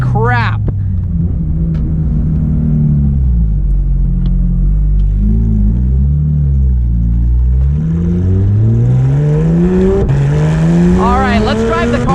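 A 2019 Porsche GT3 RS engine revs loudly from inside the cabin while driving, its pitch climbing and dropping through gear changes with a constant close rumble underneath.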